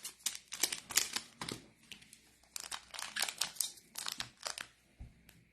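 Dragon Ball Super card booster packs torn open several in a row, bursts of crinkling foil and ripping wrapper in quick clusters with short pauses between, close and fairly quiet, no voices.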